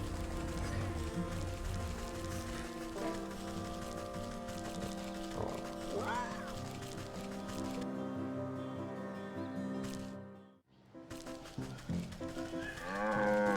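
A cow moos in the video game Wytchwood, a drawn-out lowing call heard over steady game music, with no one speaking.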